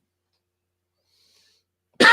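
A single sharp cough from someone with a lingering cold and runny nose breaks out loud and close at the very end, after nearly two seconds of silence.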